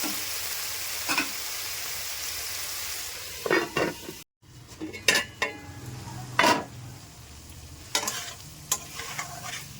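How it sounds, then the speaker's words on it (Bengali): Greens for a pui mituli chorchori frying in a pan as a little water goes in, a soft hiss followed by sharp spurts of sizzle and clinks of the stirring spoon against the pan, close by, no voices. "এবার অল্প জল দিয়ে দিচ্ছি, দিয়ে ঢাকা দিয়ে রাখবো।"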